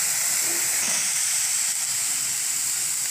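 Pointed gourd (parwal) frying in a pan on a gas stove over a medium flame, a steady, bright sizzling hiss that fills the whole stretch without pause, close and fairly loud, with no talking.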